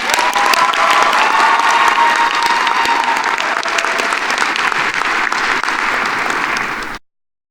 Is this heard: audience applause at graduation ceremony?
yes